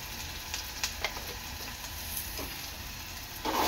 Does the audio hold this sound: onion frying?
yes